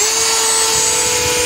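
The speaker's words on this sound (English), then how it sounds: "Drill a couple holes." A power drill runs steadily, boring a couple of holes to mount something, loud and close with a constant whine and no talking.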